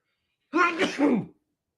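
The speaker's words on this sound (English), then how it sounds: "I'm going to sneeze." A single sharp sneeze, close and fairly loud, lasting under a second with a brief sharp intake before it, then silence.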